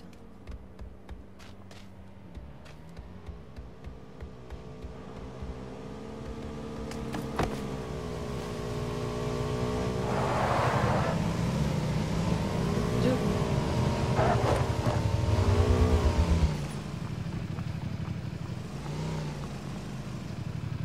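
A vehicle engine in PUBG hums and revs, rising and wavering in pitch as it drives nearby, swelling louder midway before easing off, with players talking over it.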